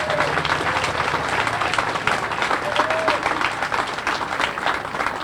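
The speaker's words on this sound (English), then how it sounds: "Let's give them all a round of applause." Outdoor crowd at a park dedication ceremony gives sustained applause, a dense steady wash of clapping at moderate loudness, with faint voices and a few whistles or calls mixed in.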